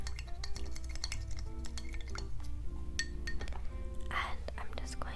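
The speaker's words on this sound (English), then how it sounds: "Just coating my spoon here." A metal spoon clinks repeatedly against a glass jar while being coated in herbal skincare product, with close, crisp taps and a soft whispering voice underneath.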